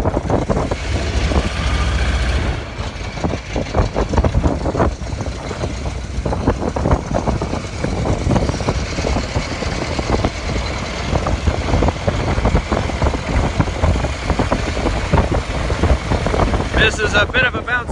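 Onboard the Virginia & Truckee motor car 24 replica, a bouncy ride without rails fills the cabin with a loud engine roar and gusting wind buffeting. A rattling texture keeps the din constant throughout.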